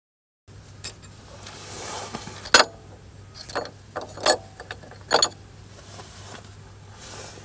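Peugeot 207 1.6 HDi engine bay, tensioner pulley being unscrewed by hand-held tool: scattered sharp metallic clicks and ratcheting clanks, several distinct hits at a close, moderate level over a low steady hum, no voices.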